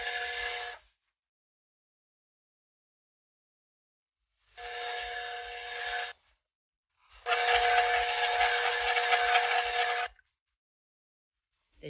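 A stand mixer blends sugar cookie dough with lemon zest, salt, baking soda and flour, running in three separate whirring bursts, two short and one longer, with silence between them.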